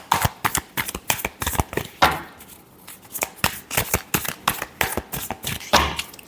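Tarot cards are shuffled by hand in rapid, repeated riffling bursts with brief pauses, close and crisp.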